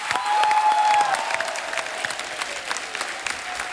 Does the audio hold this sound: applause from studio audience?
yes